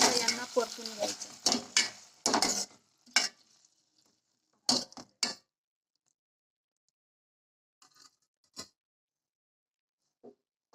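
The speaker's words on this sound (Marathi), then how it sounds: "मी आता इथे टमाटर टाकलेले आहे। आता यांना परतून घ्यायचं।" Tomatoes being sautéed and stirred in a pan, heard as short, scraping stirring bursts in a cluster at first, then sparse, faint strokes separated by quiet gaps.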